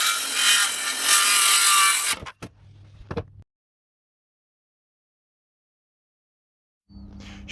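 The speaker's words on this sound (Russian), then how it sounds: "Отпиливаем доску нужной длины." A handsaw cuts a wooden floor board to length during a private house floor renovation, with a steady rasping run of strokes up close, then a few knocks and handling clatter before quiet and a low hum.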